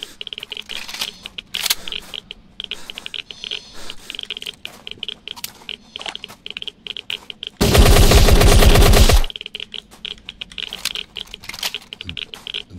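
Automatic gunfire from Remnants, a zombie survival video game, erupts as one loud, dense burst of rapid shots lasting about a second and a half, set between quieter clicks and small in-game noises.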